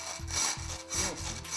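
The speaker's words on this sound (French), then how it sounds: "Avec une scie à vilebrequin équipée d'un fil au carbure, on avance lentement sur notre tracé" Carbide wire blade on a jigsaw rasps through a ceramic tile in four steady back-and-forth strokes, close and loud, each with a gritty rubbing texture and brief pauses between.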